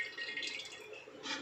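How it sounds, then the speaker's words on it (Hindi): Water drips and trickles through a Tata Swach steel water purifier as a faint, soft, continuous splash with a few slightly louder moments, heard up close and on its own. "तो ये देखिए ड्रिप आउट होके नीचे आ जाएगा"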